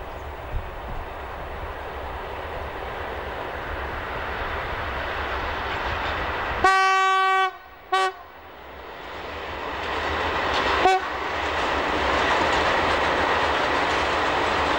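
A train hauled by an electric locomotive rumbles past close by on an uphill grade with steady broadband roar, a brief two-tone horn blast in the middle, then the noise continues and swells toward the end.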